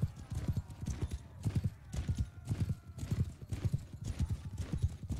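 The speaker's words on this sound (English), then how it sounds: "Oh no, there's one horse over here." Horse hooves galloping in the video game Mount and Blade Bannerlord, a rapid rhythmic thudding clip-clop repeating steadily at moderate volume, with a horse whinny mixed in.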